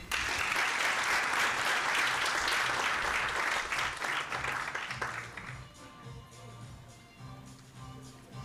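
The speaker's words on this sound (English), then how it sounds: "I wasn't happy with your clapping." An audience claps steadily at an event, loud and dense for about five seconds before fading into scattered claps and room murmur.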